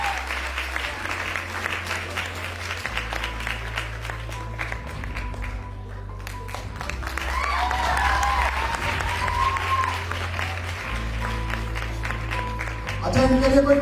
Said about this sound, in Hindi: ताली तो बजा दो अच्छे वाली।